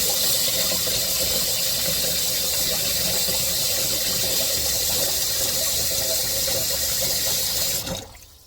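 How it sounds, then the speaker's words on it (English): Water pours steadily from a tap into a pot holding a smoked turkey leg, a constant hiss that cuts off abruptly near the end. "you want to fill it up to where the water covers the turkey leg"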